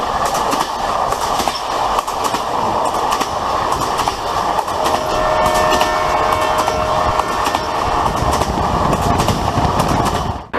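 A passenger train runs along a curving railway line, its loud steady rumble and clickety-clack of wheels heard up close for the whole stretch, with faint squeals from the rails.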